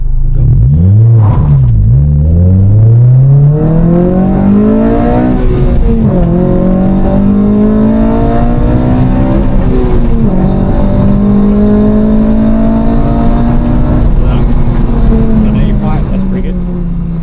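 A K24-swapped 8th gen Honda Civic Si accelerates hard through its gears, the loud engine note climbing steeply in pitch, dropping at each shift and rising again, with voices talking briefly over it.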